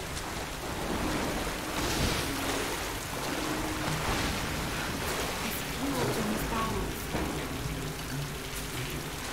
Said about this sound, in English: let's go back through the waterfall and see what's in here